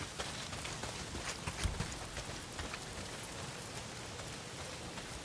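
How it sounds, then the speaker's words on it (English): Heavy rain pours steadily in the Days Gone video game, a dense, constant hiss of drops spread evenly across the scene with no voices over it. "Well, not if it's pissing down rain."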